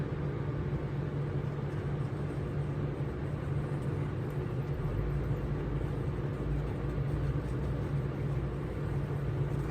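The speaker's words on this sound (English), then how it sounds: "I can tell when her little truck drives by." A small mail delivery truck drives by out front, heard as a steady low engine rumble that stays even throughout, with no voices.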